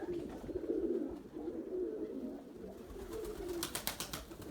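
White pigeons cooing steadily at close range, a soft continuous low murmur with some brighter rustling toward the end, no speech.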